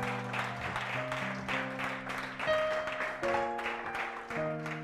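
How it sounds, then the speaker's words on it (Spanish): Church congregation applauding the Lord after a sermon, a dense wash of hand claps with organ or keyboard chords sustained underneath, moderately loud and continuous. "Dele un aplauso entonces al Señor."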